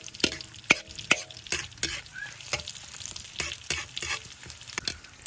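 Onion sizzles in a hot pan for fish curry while a spoon stirs it, with a steady crackling fry and repeated sharp scrapes and clacks against the pan close up.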